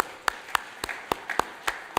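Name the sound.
audience round of applause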